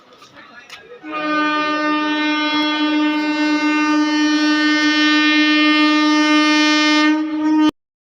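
A Rajdhani Express sounds a very loud, sustained multi-tone horn as it enters a station. The horn rises over quieter platform noise, holds steady for several seconds, then cuts off abruptly.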